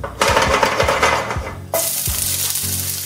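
One medium white onion dropped into hot olive oil in a pan bursts into a loud, close sizzle. It eases slightly, then flares again as the pieces are moved, with light clinks of utensils against the pan.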